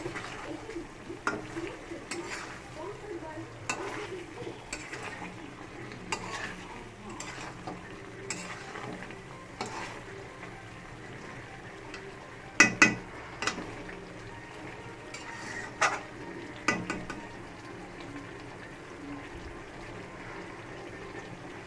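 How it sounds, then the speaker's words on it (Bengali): Chicken sautéed with ginger, onion and garlic paste, stirred in a pan: repeated scraping and clinking spatula strokes over a low sizzle, close by, with a few sharper knocks against the pot. "দিয়ে আদা পেঁয়াজ রসুন সব পেস্ট করে তারপরে চিকেনটাকে কষানো হচ্ছে।"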